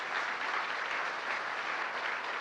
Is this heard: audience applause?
yes